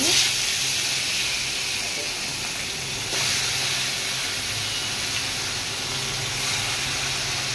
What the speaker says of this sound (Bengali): এবারে দেখুন আমি মাছ দিচ্ছি